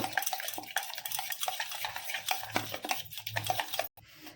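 Salted chicken pieces are mixed with spices for chicken tikka masala, giving wet squelching and clinking spoon-on-bowl stirring in quick irregular strokes, close and moderately loud.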